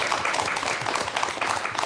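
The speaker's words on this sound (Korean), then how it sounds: "큰 박수로 맞아주시기 바랍니다." Studio audience on a Korean morning TV talk show applauds steadily to welcome guests, a dense wash of clapping that holds even throughout.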